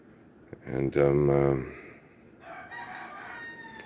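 A rooster gives a single loud, close crow that rises and then trails off, with a sharp click just before it. Quieter, hazy farmyard sounds follow afterward.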